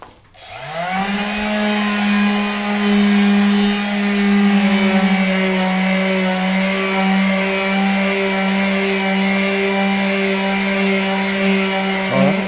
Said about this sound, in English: Now we just need to sand this glue off of it.